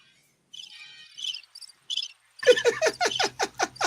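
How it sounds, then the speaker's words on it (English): Crickets chirp in short trilling bursts, then a louder, rhythmic run of rapid chirps takes over near and clear, with no voices. "Crickets."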